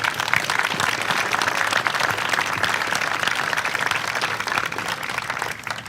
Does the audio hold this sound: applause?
yes